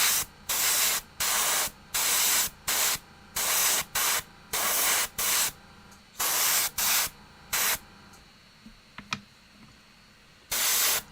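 Airbrush spraying paint onto Warhammer 40k Dark Eldar Hellion miniature models, loud hissing bursts of about a second each repeating in a steady on-off rhythm, with a short quiet gap containing small clicks before a final burst.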